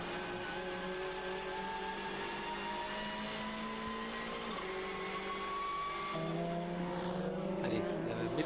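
An American engine in a touring car race at the 2013 WTCC round in Hungary, race two, roars with a climbing whine through the gears, shifting near the end, with other cars faint in the background.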